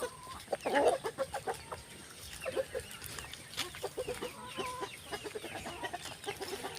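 Chickens in a coop cluck and squawk in a busy, overlapping chorus, with one louder call near the start, close and without any talk.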